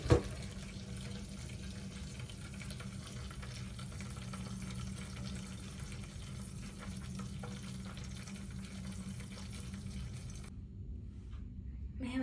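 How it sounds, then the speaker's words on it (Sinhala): Water pours steadily into a container of oats and rice set to soak overnight, a continuous close rushing stream that stops abruptly near the end. "ඕට්ස් ටිකයි උළු හාල් ටිකයි මේකට වතුර දාලා මම අද රෑම මේක තෙගෙන්න තියෙනවා"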